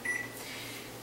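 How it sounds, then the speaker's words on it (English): A microwave oven heats a cookie mug with a steady, low hum throughout, opening with a brief thin tone. "So then you're going to want to microwave it."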